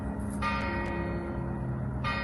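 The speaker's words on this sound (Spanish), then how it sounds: "Campanas." Church bells ring steadily in the open air, a sustained metallic tolling that carries through the whole moment alongside outdoor background noise.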